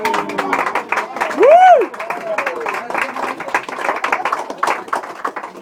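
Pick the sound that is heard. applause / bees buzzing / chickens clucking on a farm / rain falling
applause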